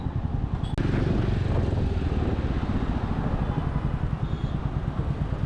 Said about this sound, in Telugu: ఇంజన్ ఎంత స్మూత్గా పర్ఫామ్ చేస్తుందో ఆ సౌండ్ వింటే మీకు అర్థమవుతుంది అనుకుంటున్నాను.